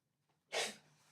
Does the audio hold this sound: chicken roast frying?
no